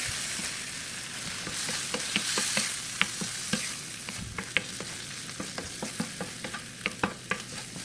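Bitter melon (ampalaya) frying and being stirred in a pan: a steady hiss of sizzling oil broken by repeated sharp scrapes and clicks of the utensil against the pan, close and fairly loud, with no talking.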